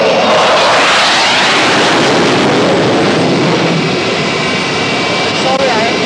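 Military jet aircraft flying low at the 1986 Sion air show, a loud continuous roar with a swelling whine that stays close and steady throughout, with a crowd's talk faintly beneath.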